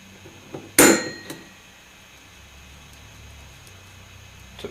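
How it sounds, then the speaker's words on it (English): A single sharp metallic snap of an automatic center punch striking motorcycle silencer pipe metal, loud and close, followed by a short faint ring and quiet workshop background. "Now I'll use my automatic center punch."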